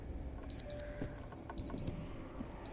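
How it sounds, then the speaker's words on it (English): A video game alarm beeps in short paired high-pitched tones, repeating in clusters over a faint low background, fairly quiet overall. "Oh, and that's the alarm."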